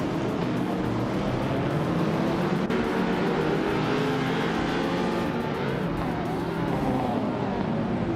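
Race cars launching at the start at Batangas Racing Circuit, led by a vintage 1955 Connaught Type B: a loud, continuous roar of several engines revving and accelerating together, close and steady throughout.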